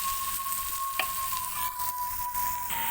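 Beef sizzles and fries steadily in a pan as its water cooks off for Padang-style Minang rendang, a constant close hiss with a brief scrape of stirring partway through and a thin steady tone running underneath.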